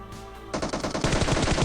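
A DP-28 light machine gun fires in the game PUBG Mobile. After a brief quiet lead-in, a rapid, close burst of evenly spaced shots runs to the end.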